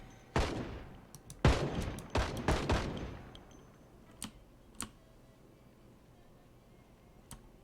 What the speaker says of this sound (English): That was a lot of bullets